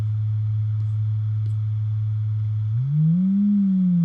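A steady low 100 Hz oscillator tone holds alone, then bends upward in pitch near the end and settles slightly higher.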